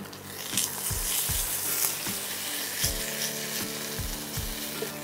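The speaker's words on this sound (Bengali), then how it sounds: "পোস্তটাও ভালো করে একটু মিশিয়ে একটু কষানোর মতো করে নিচ্ছ" Poppy seed paste sautéing in spiced oil for a Barishal-style boal fish curry: a steady close sizzle and fry, broken by several dull knocks and scrapes of a spoon stirring in the pan.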